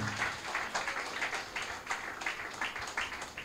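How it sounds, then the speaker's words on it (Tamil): Crowd clapping at a 27th-year church anniversary and dedication service, a steady, dense patter of many hands that carries on evenly for the whole stretch at moderate loudness. "லக்ஷ்மி ஆடியோ சர்வீஸ், நல்ல கைத்தட்டுங்க"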